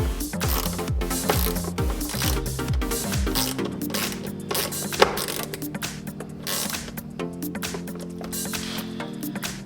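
A ratchet clicks rapidly while tightening nuts in a crisscross star pattern during a Tesla wall connector installation, with quick bursts of metallic pawl ticks followed by slower, more deliberate clicking.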